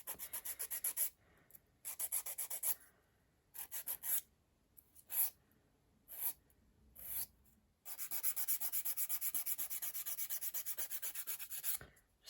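A nail file rasps across polygel nails in close, faint rhythmic strokes, first in short bursts separated by pauses, then in a long steady run of quick back-and-forth scrapes.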